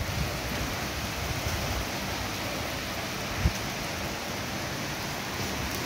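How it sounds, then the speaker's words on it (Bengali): Heavy downpour of rain outdoors, a dense, even roar of falling water with one brief low thump partway through, no voices. "মুষলধারে বৃষ্টি এসে গেছে"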